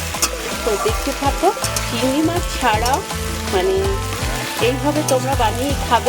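Taro stolons fry with garlic in a pan, loud close sizzling with repeated scraping stir strokes, while someone talks over the cooking.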